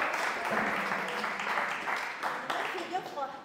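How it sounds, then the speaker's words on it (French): Faint, thin applause from a small group at a French club meeting, a few hands clapping briefly with some voices talking underneath. "Allez, on applaudit Pascal parce que pareil, c'est pas évident, c'est une première."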